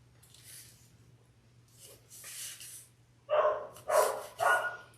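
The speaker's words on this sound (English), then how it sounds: "The dogs are hungry." Hungry dogs barking in another room of a house, several muffled barks, the last three louder and closer together, over a low steady hum.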